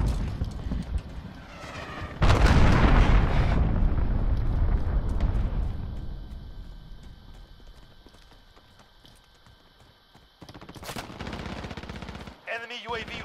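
Missile strike explosions in Call of Duty Modern Warfare hit with a heavy, loud roar that slowly fades, followed later by another sharp blast and scattered gunfire, with brief voices in the mix.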